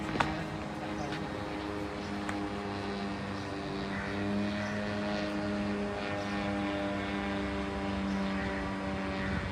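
Drone flying over Dubai airport during an attack, a steady droning engine hum with layered harmonic tones, held at an even level throughout with voices speaking over it.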